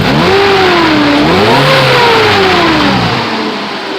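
Nissan 240SX with a KA24DE engine running loudly near, its revs rising and falling with a steady roar and loud clutch fan whir, settling lower toward the end.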